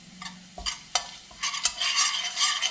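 Whole spices such as cinnamon and cardamom frying in hot oil with garlic, a crackling sizzle broken by sharp scrapes and clacks of a spoon stirring in the pan, close up and no talking.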